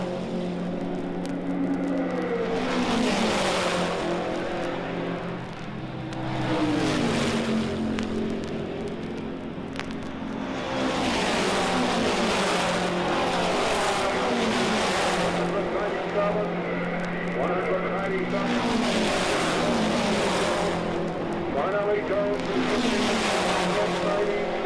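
Race cars of the 1963 Indianapolis 500 exit turn four onto the straightaway, engines roaring and swelling as several cars pass in repeated surges, with an announcer talking over the steady crowd and track noise.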